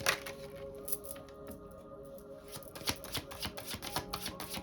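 A deck of tarot cards is shuffled close up, giving a quick run of riffling, flicking snaps and soft slides. No voice is heard.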